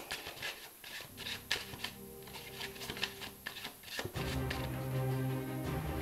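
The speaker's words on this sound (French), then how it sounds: "Donc on va mélanger le paquet." A deck of playing cards being shuffled during a magic trick presentation: soft, quick riffling and rubbing flutters in irregular bursts, close and quiet, followed by a steadier background hum.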